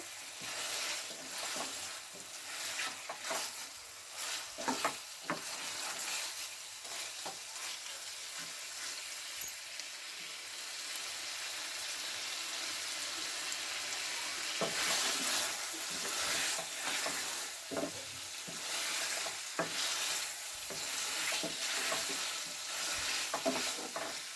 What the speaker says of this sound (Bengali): আমি হালকা হাতে আবার কষাচ্ছি